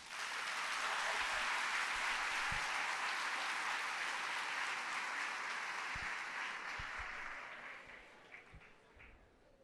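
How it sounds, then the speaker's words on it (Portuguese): A church congregation applauds during a sermon, a broad sustained clapping from a large crowd that holds steady and then slowly fades toward the end, with a few low thumps mixed in. "Aplaude Jesus."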